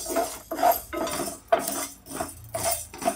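Sago pearls tossed and stirred with a metal spoon in a thick-bottomed pan, a series of sharp scraping and clinking strokes in uneven rhythm, close and fairly loud with no talking.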